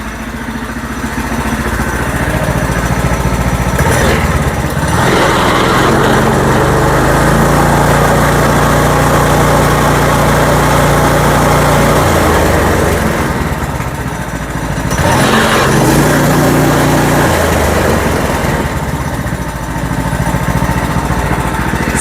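The small gas engine of a Coleman KT196 go kart runs loud and close, a steady buzzing drone that revs up and settles back a few times without any talk.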